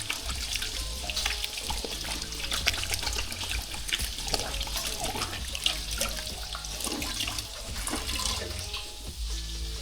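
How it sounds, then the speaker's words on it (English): Running tap water splashing into a kitchen sink during hand washing; a continuous close splashing and trickling with small irregular bursts, no voices. "And always wash your hands."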